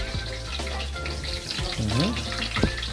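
Lugaw, Filipino rice porridge, cooks in a pot with a close, steady sizzle and bubbling, punctuated by a few brief clatters and stirring knocks, with no one talking.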